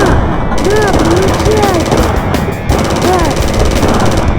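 Video game gunfire crackles through a dense, steady din of battle noise, with voices talking over it throughout.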